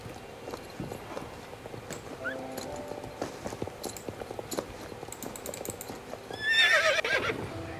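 Horse in the Star Stable video game: steady clip-clopping hooves throughout, ending in a loud, close neigh, with faint clicking alongside.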